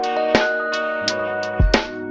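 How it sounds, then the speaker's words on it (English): Shimmering, glassy pitch-shifted textures from the Soundtoys Crystallizer plugin in Ableton Live, laid over a Tribe Called Quest style beat, with sustained tonal layers and a few sharp bright accents and a low thump near the end. "What other kind of plugin is gonna give me sounds like this crystallizer plugin?"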